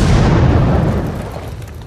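A loud, deep explosion from a film scene stops a car that helicopters have been chasing and firing on. A heavy rumbling boom fills the whole stretch and fades slowly.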